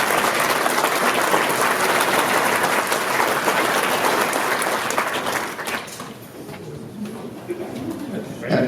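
Loud applause from a town hall crowd fills the first several seconds, then fades into a quieter murmur of a room with scattered voices.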